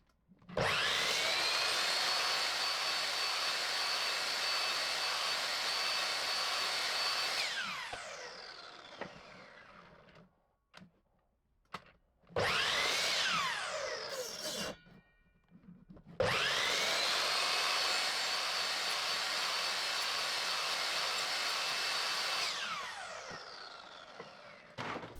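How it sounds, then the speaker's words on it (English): Power tool cutting dados in 2x4 wood boards, three long loud spells of high whining cutting noise broken by short quiet gaps and a few knocks, close and without talk. "Cut all 8 dados starting with the leftmost and rightmost cuts, then removing all middle materials."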